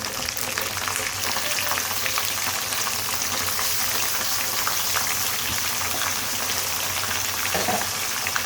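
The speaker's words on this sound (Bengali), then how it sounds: "এখন আমি মাংসগুলোকে ভালো করে নেড়ে দিচ্ছি।" Meat frying in a pan with browned onions for haleem gives a dense, constant sizzle that holds steady and close throughout, with faint stirring underneath.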